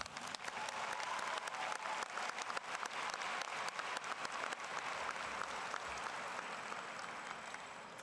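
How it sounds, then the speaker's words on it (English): At a 2023 graduation ceremony for Waterloo East, a large crowd gives the teachers a big round of applause, thick, sustained clapping from a full hall that holds steady, then eases slightly toward the end. "Let's give them one big round of applause."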